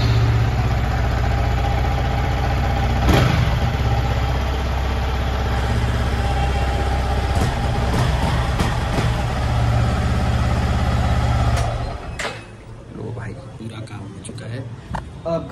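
A Yamaha MT15 V3 BS6 motorcycle engine idles and revs after washing at home, with possible water in the silencer, a loud steady close drone with a few sharp blips, then dropping away near the end as someone talks over it.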